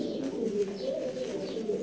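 Pigeon cooing steadily at close range as the bird is held in the hand, a low continuous coo with faint chirpy notes, no talk.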